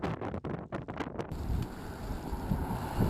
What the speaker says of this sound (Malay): Hujan turun dengan lebat dan angin bertiup amat kuat.